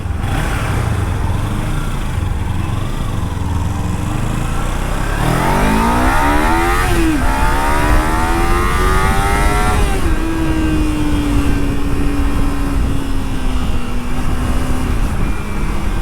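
A Kawasaki Ninja 300 two-cylinder 300cc motorcycle engine drones loudly. Its pitch climbs steeply as it revs up, then settles into a steady, deep cruising note with constant wind rush.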